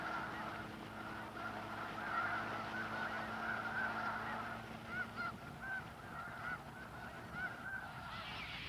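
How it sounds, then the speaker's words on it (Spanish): Large flocks of birds fly over a South American river, their honking calls repeating steadily and overlapping throughout, set against a constant low drone from the boat. "grandes colonias de aves nos sobrevolaban frecuentemente"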